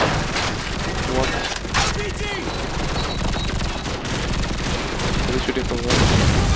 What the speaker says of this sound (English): Where is the person shooting from? Where is he shooting?